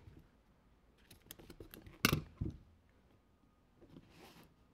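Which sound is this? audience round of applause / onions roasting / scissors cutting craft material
scissors cutting craft material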